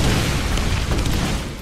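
A deep, roaring grenade blast in the Borderlands shooter, a single sustained rumble that stays loud throughout with no voices.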